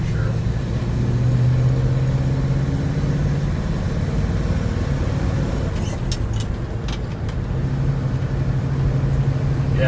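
A 1969 Ford Highboy pickup truck's engine drones steadily from inside the cab while driving, a low continuous rumble with slight shifts in pitch.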